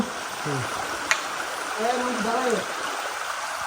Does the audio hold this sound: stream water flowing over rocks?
yes